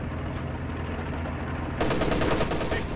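Bursts of rapid machine-gun fire break out in Company of Heroes 2, with German forces fighting over an industrial area. The fire starts suddenly after a low rumbling background and crackles loudly to the end.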